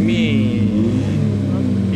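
A car with a 1.3 litre engine accelerating, its steady engine drone rising slightly in pitch, recorded from nearby with people talking over it.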